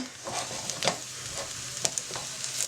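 A spoon stirs rice with meat and diced cheese in a pan, giving soft scraping and a low sizzle with a few light knocks, close and fairly quiet.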